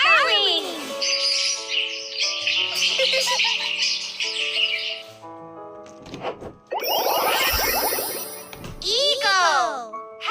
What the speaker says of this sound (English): Starling!